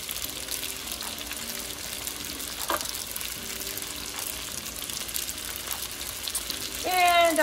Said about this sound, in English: Get that sizzle on